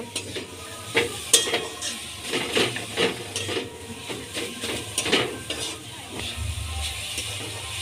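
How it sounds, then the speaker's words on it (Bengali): Coconut and jaggery filling for pitha being stirred in a wok, with repeated scraping spatula strokes in an uneven rhythm over a soft background sizzle, close by. "এবার এটাকে ভালো করে নেড়ে পিঠের পুর বানিয়ে নেব"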